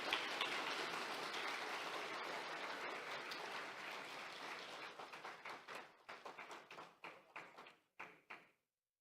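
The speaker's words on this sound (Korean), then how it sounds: "여러분 큰 박수로 축하해 주시기 바랍니다" An audience applauds at a Korean National Assembly award ceremony, a dense wash of clapping that thins into scattered individual claps before fading out, moderately distant in a large hall.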